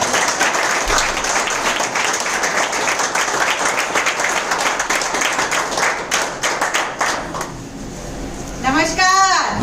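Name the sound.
applause for colleagues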